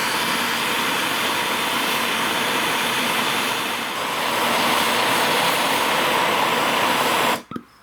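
A MAP gas torch roars steadily while heating a broken engine block bolt on a lawn mower, a loud constant hiss that shuts off abruptly at the end.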